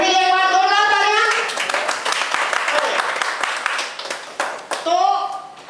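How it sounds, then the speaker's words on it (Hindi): An indoor crowd claps and cheers for a woman in short, dense, steady applause, with voices calling out over it at the start and the end. "मैम के लिए एक बार जोरदार तालियां।"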